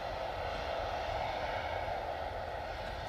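Jet2's 37-year-old Boeing 757 arriving on its final flight, a steady broad engine roar that holds at one level throughout, with no voices over it.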